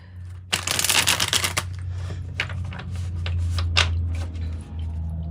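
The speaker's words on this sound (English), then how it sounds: "One more good shuffle, and then we'll cut the deck." A deck of tarot cards is shuffled up close, a fast burst of riffling clicks followed by softer sliding and tapping of cards over a low hum.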